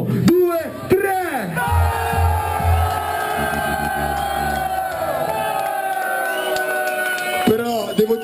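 A crowd at a freestyle rap battle yells, whoops and cheers loudly in support of a rapper, a sustained roar of many voices with bursts of individual shouts, after someone briefly talks over a microphone.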